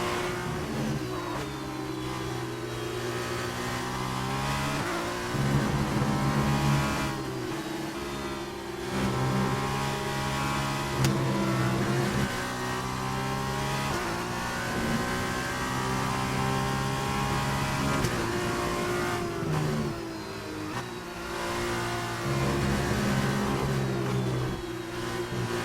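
Race car engines in the F1 2019 video game scream through the final lap of an F2 race, with one engine loud and close throughout and its pitch repeatedly climbing and dropping through gear changes and braking.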